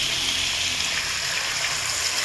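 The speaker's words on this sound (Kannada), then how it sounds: "ಈಗ ನೆಕ್ಸ್ಟ್ ನೀರು ಹಾಕೋಣ." Water poured into a pot while cooking akki usali, a steady loud hissing gush of pouring liquid, close and uninterrupted, with no talk over it.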